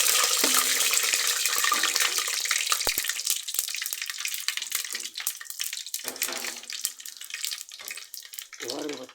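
Mustard, fenugreek and cumin seeds hit hot oil for a home-style fish curry, giving a loud, hissing sizzle with scattered crackles that gradually settles and thins out.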